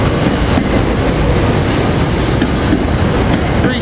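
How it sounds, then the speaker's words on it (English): A commuter train with its string of rail cars rolls out of a busy station at rush hour. Dense, continuous wheel and rail noise stays loud and close throughout, with faint clickety-clack and a hint of squeal. "1083 leaving with rail cars 795, 720"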